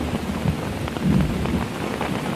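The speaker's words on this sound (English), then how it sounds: "Relentless rain in extraordinary quantities." Heavy, relentless rain pours down in a steady dense roar, with low thunder rumbling underneath throughout.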